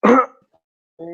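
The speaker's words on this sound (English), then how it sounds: "I have a cough right now" A single harsh cough bursts out up close, then silence, then a voice starts to speak.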